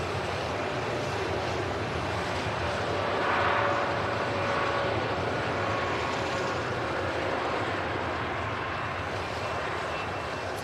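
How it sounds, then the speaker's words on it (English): A TUI Dreamliner airliner takes off at Manchester Airport, a broad, loud, sustained engine roar with a steady rushing wash that swells slightly midway, heard from a distance outdoors. "Seems like a pretty D-rated takeoff from the TUI Dreamliner."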